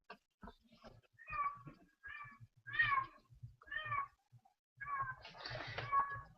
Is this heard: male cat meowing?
yes